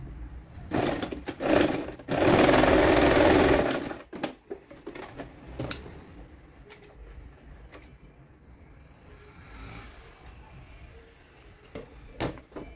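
A sewing machine stitches a small witch hat for a Blythe doll: one loud, steady run of about two seconds, framed by quieter clicks and fabric handling before and after.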